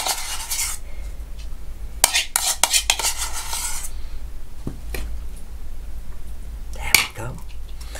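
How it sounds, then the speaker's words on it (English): A metal spoon clinks and scrapes against a dish as a raspberry puree mixture is spooned in, with a cluster of quick clatters in the middle and a brief voice near the end. "We've now spooned in the raspberry puree mixture."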